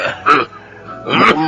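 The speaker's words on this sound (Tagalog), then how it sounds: "masama na yung ubo mo" Two short rough coughs from a person in a Filipino radio drama, sounding close and fairly loud, separated by a brief quiet gap.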